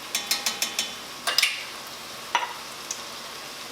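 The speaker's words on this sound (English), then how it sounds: "I'm going to put some fresh garlic in here" Fresh garlic hits a hot pan, giving a run of sharp, close sizzling crackles and spits, then a few scattered pops and bursts fading toward a quiet low hiss.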